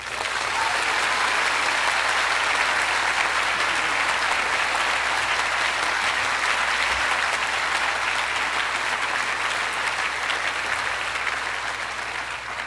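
Sustained applause from a college commencement audience welcoming speaker Larry Sanger at Reed College, a steady dense wash of clapping that holds loud and even throughout before easing slightly at the end.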